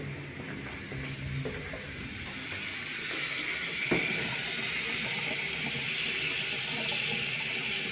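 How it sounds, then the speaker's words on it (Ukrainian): A tap runs steadily with a constant watery hiss, close by and unbroken, with a faint low hum from an apartment gas boiler underneath. "Спочатку побіжить холодна водичка, а далі буде тепло."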